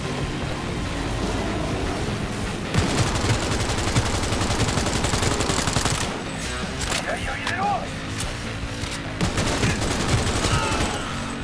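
Pistol gunfire in Cyberpunk 2077 crackles in rapid bursts through a dense, loud game mix, with people talking over the shooting.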